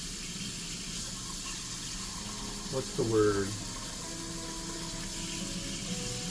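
A kitchen tap runs steadily in the background while water is readied for Sapporo Ichiban tonkotsu shoyu ramen, with a brief clatter midway and a person speaking faintly over it.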